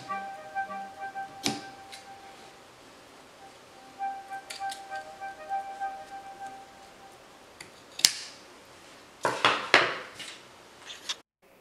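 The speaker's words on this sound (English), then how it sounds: "I do think I'm gonna trim this just a teeny bit though." Scissors trimming a fabric piece while crafting a pocket tee: a few quiet, close snips and crisp cutting strokes with soft handling rustles in between.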